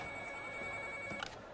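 A telephone rings with a steady electronic ringtone, fairly faint and unaccompanied, lasting under two seconds with a slight click near the end.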